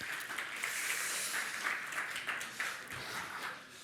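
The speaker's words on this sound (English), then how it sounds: "please again, round of applause" Audience applause at a game-development conference session, a dense wash of clapping that swells and then starts to thin out, heard from a distance in a large room.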